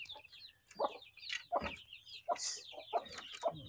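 A protective mother hen clucks near her chicks in a rapid series of close, sharp clucks and agitated calls, with no speech over them.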